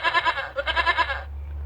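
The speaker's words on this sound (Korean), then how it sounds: "sheep." A sheep bleats in one loud, close, wavering call with a rapid tremolo pulse, then cuts off into quiet background.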